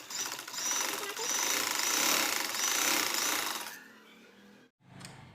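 A sewing machine stitches a seam on a baby frock for a two-year-old girl, giving a fast, loud, close mechanical rattle for a few seconds, then a quieter pause and a brief final burst.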